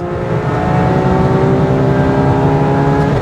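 A Ferrari 812 Superfast at very high speed on the Autobahn, its engine droning loud and steady from inside the car with constant, unbroken power and no voices.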